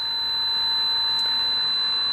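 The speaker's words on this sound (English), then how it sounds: "there's our leak alert" An EcoNet Bulldog smart water leak alarm sounding in leak-alert mode, a loud, piercing, continuous high-pitched electronic tone held steadily throughout, close by and with no talk.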